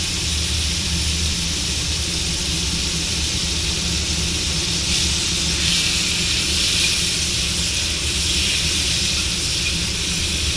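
Shrimp fry in hot oil in a pan, producing a loud, dense, even hiss of sizzling that holds steady throughout, with no talking.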